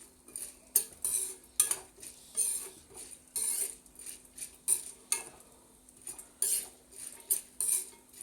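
Peanuts being dry-roasted in a pan for peanut chutney are stirred with a metal spoon, making a rhythmic series of close scraping, clinking strokes about every half second.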